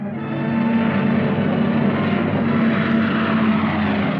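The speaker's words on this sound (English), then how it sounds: "Cargo planes shuttled back and forth over the hump to China." Propeller cargo planes flying a wartime supply route over the hump to China: a steady, loud droning engine roar with a low humming tone, continuous throughout with no voices.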